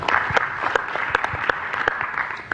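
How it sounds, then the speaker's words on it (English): Applause from a modest audience at a group event, with distinct, fairly close hand claps in an uneven rhythm forming a short burst of clapping. "Round of applause for that."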